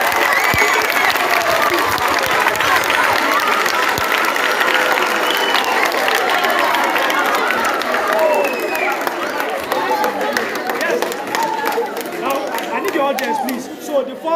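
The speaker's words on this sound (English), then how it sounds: "Please let us clap for you." Audience applause at a school farm awareness event at Royal Spry College, Badagry: sustained dense clapping and crowd chatter filling the room, fading slightly toward the end.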